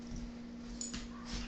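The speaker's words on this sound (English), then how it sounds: "Watch them how they fight. That's the cat and the dog." A dog and a cat play-fighting on a floor, heard as brief scuffling, soft yips and whimpers close by in a short burst, with no talk.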